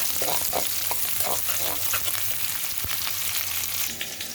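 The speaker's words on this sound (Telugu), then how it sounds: "మంచిగా వేగితే బాగుంటుంది." Beans frying in a pan with potatoes nearby give off a dense, continuous sizzle, broken by repeated scraping stirs of a utensil against the pan, close and loud with no talk.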